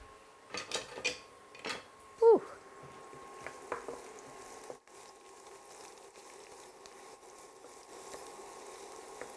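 Garlic and ginger sautéing in a pan, a soft, steady sizzle preceded by a few clinks and knocks of utensils, moderately close and without talk.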